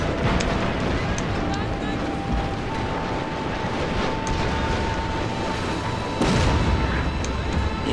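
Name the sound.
Ironclad ships firing Gatling guns, from video game Shogun 2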